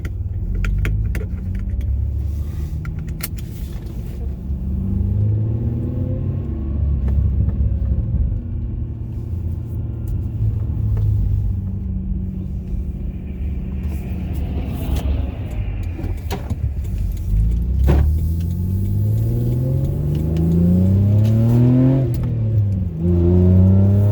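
Toyota Solara 3.0 with a 1MZ-FE V6, headers and a cat delete, heard from inside while driving: a steady low engine drone and exhaust rumble, with gear changes and rising revs near the end, no talking.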